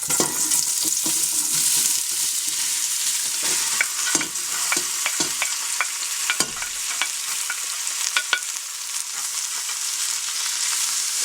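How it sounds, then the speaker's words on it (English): Chopped onions, celery and carrots sauté in olive oil in a pot over medium-high heat, with a steady loud sizzle throughout and repeated scraping clicks from stirring. "add some olive oil. And then we're going to add our onions, celery, and carrots."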